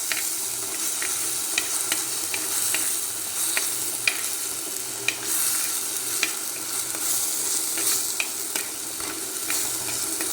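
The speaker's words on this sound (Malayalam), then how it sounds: "ഇഞ്ചി വെളുത്തുള്ളി കൊച്ചുള്ളിയുടെ പേസ്റ്റ് അത് ചേർത്തു നല്ലതുപോലെ ഇളക്കാം." Ginger, garlic and shallot paste frying in a pan, a continuous bright sizzle with regular sharp ticks of a spoon stirring against the metal, close and uninterrupted by speech.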